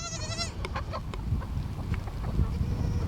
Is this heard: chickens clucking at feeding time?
yes